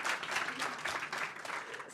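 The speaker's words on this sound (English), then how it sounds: "I hear the applause." Audience applause at a food waste summit, a short burst of steady, moderately distant clapping with no talk over it.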